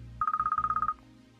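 An iPhone ringtone plays from an Android phone: a quick run of about thirteen identical bright electronic beeps in a steady rhythm, close and clear, ending abruptly within about a second.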